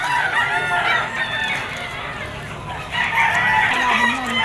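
A rooster crows repeatedly amid the busy bustle of a Malabon pet market where gamecocks are sold, its strained calls rising over steady crowd noise.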